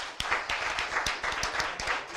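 Audience at a cyclocross event awards show clapping for Renato Longo, a sparse group of individual hand claps, fairly quiet and uneven in rhythm.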